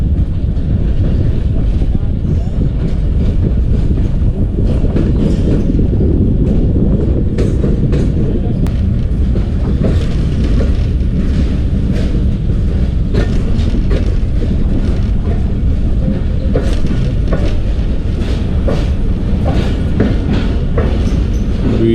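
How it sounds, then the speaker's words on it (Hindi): The Jaffar Express, a passenger train on the ML2 line, rolls into Jacobabad railway station with a loud, continuous rumble and rhythmic clatter of wheels over rail joints, heard up close from on board. "जैकबाबाद रेलवे स्टेशन पर एंटर हो गई है जाफर एक्सप्रेस 40 डाउन।"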